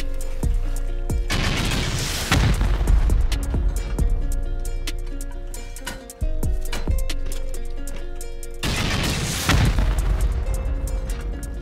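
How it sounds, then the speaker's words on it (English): Rockets slam into a rock bunker of sheet metal and stone in a survival game: two loud booming blasts several seconds apart, each with a roaring, crackling tail over a steady low hum and scattered smaller impacts. "Send some rockets in here."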